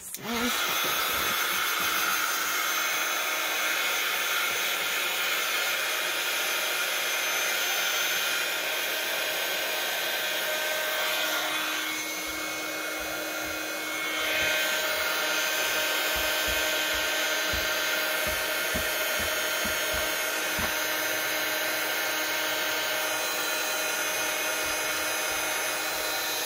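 A hair dryer blows steadily and loudly over coffee-soaked book pages for a masterboard, a continuous airy roar with a brief dip near the middle before resuming.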